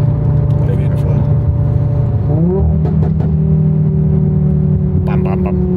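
A five-cylinder VW Golf 7 R with SAR Turbotechnik tuning drones loudly from inside the cabin, its engine note sweeping in pitch as it revs, with a few sharp exhaust cracks and pops breaking through the steady roar.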